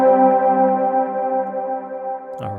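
Sustained synth pad chord in Ableton Live with reverb, a smooth steady drone holding for a couple of seconds before a brief shift in the final moments, alone and fairly loud.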